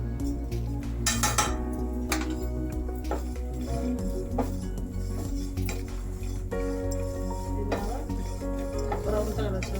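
Cumin seeds fry in a pan with a bright, busy sizzle and crackle, joined by spoon clatter and stirring scrapes against the metal throughout.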